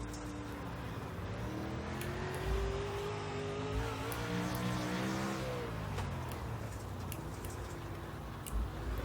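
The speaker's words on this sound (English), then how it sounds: "you can actually work on holding the throttle a little bit more in a controlled slide through the corner" A race car in the iRacing video game holds the throttle through a controlled slide on a slick track, its engine droning steadily and loudly, the pitch rising and falling with no pauses.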